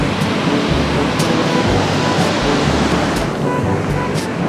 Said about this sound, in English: Look how these waves are crashing